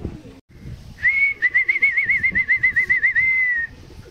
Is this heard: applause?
no